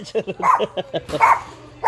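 A dog barks in a quick series of short, sharp yaps nearby, with a voice mixed in among the barks.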